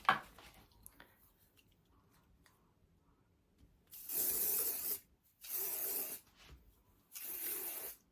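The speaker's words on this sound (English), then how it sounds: "So, a bit of dry shampoo." Dry shampoo aerosol sprayed onto hair in three close hissing bursts, each about a second long, after a quiet stretch with faint handling noises.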